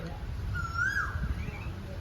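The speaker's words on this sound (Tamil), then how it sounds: "இந்த சாயங்காலம் இந்த குயில் சத்தம் எனக்கு ரொம்ப பிடிச்சிருக்கு." A koel calls in the evening air, a single rising, sliding whistle heard at a moderate distance over a soft background hum, with faint higher trills trailing around it.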